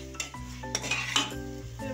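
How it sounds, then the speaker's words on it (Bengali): Potatoes and washed meat stirred together with salt in a metal pot, a spoon scraping and clanking against the sides in a few close, quick strokes. "এগুলো খুব ভালো করে মিশিয়ে নেব।"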